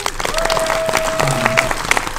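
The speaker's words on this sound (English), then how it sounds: "So give them a fucking round of applause." Audience applause at a film event, a steady wash of clapping from a crowd that holds evenly through the whole stretch with a faint tone running underneath.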